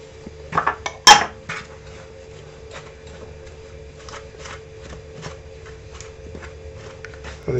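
Sugar is tipped into softened room-temperature butter in a bowl while making Lebkuchen Christmas cookies, with a few sharp clinks of utensil on bowl early on, then light scattered taps and rustles against a faint steady hum.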